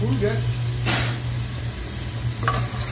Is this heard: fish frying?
yes